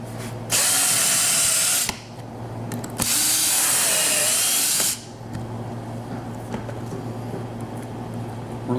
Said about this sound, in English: and then drill my two holes.